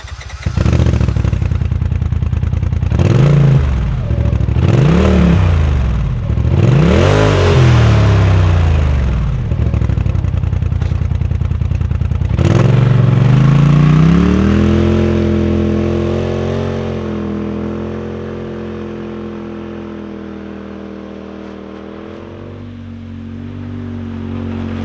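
Polaris RZR Pro XP side-by-side fitted with an MBRP performance muffler, revved hard in three sharp rising-and-falling bursts, then held at a steady, loud, droning high idle that gradually eases off, with no talking.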